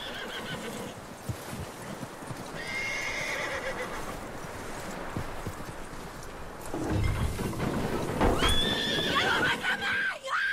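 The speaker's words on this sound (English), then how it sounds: "That looks like a decent horse." Horse in the video game Red Dead Redemption 2, a soft clip-clop of hooves under ambient noise, then a close, loud whinny and snorting, with faint voices in the background.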